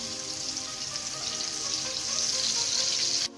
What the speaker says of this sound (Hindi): ऑयल गरम हो गया, अब हम इसमें प्याज शामिल करेंगे अपनी